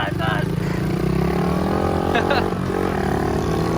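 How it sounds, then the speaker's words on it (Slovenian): Motocross motorcycle engine revving steadily at a dirt-bike camp in Hungary, a continuous droning roar held throughout, with people talking over it. "Poglejte si Zala na motorju"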